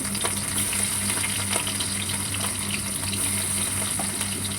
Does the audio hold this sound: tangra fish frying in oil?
yes